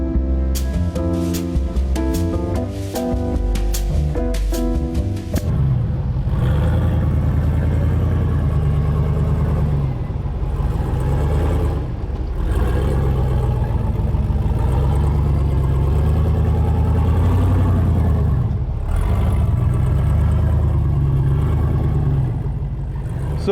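An off-road rig engine labours steadily as it works through an obstacle on The Fallen trail at Trail Hero 2025. A continuous low rumble with slight surges runs for about 18 seconds after a short burst of music at the start.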